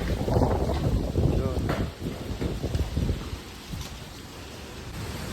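Strong gusting wind sweeps outdoors as a storm approaches under fast-moving clouds, loud rumbling buffets hitting the microphone in uneven surges that ease off toward the end, with someone talking briefly over the noise.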